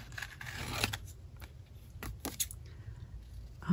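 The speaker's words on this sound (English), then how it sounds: "I know I saw the scissors somewhere. Just get them out. Cut out this part." A few quiet scissor snips cutting through paper, spaced irregularly, close by with a low steady hum underneath.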